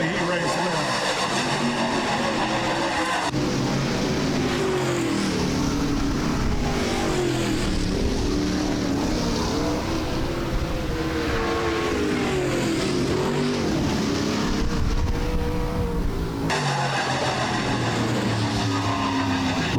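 Midwest Late Model race cars roar around a dirt track in a heat race, a loud continuous engine drone with rising and falling pitch as the pack passes, and an announcer's voice runs over it.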